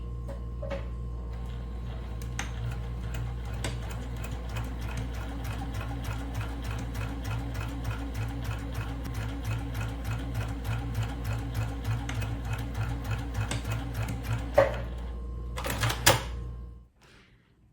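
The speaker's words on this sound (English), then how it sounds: "now we're in the sewing machine and we're gonna sew a 1/4 inch" A sewing machine stitches in a fast, even mechanical rhythm for a long stretch, then stops with a couple of clicks.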